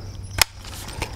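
A 5.56/.223 rifle fires at a hanging steel plate target about 12 inches round: one sharp, close crack, followed roughly half a second later by a fainter metallic ping of the hit.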